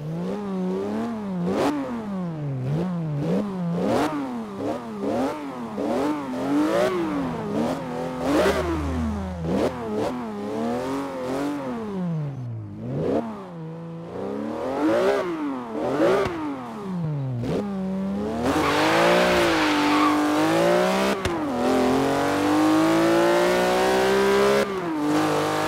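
A Porsche Cayman GT4's 3.8-litre flat-six revs repeatedly in Forza Horizon 3, rising and falling in steady rhythmic sweeps before swelling into a louder sustained climb near the end, with no talking.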